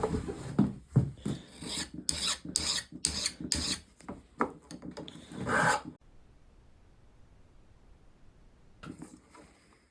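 A modern Stanley 151 spokeshave scrapes paint off wood in a quick series of close, rasping strokes for about six seconds, then near silence before a few fainter strokes resume at the end.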